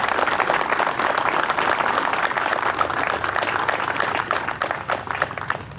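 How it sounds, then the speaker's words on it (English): Steady, dense applause from an audience at an opening ceremony, a continuous wash of many hands clapping that thins slightly toward the end. "one more round of applause, please, y'all."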